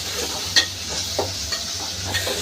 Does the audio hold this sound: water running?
no